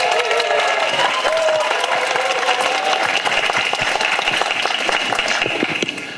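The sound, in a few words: audience applause for the speaker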